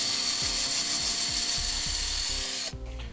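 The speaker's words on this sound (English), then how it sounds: "remove the bolt that secures it" A ratchet wrench clicks steadily as it backs out the bolt securing a cargo hook on a 2014 Toyota Sienna, a close, continuous run of rapid pawl clicks over a constant background hum that drops away at the end.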